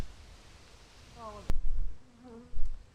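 Honeybees around a hive building natural comb give faint close buzzing with rising and falling wingbeat tones, interrupted by a sharp knock and some handling thumps.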